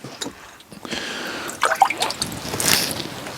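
Water is dripped onto a Tormek T8 sharpening waterstone during knife sharpening, producing a few close, soft drips and wet squishy splashes amid light scraping, with no talking.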